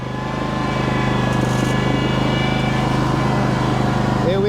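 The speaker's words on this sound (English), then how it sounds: "Here we are on the tractor." A lawn tractor's engine runs steadily at idle, a continuous low droning hum with a faint rise in level at the start and no talking over it.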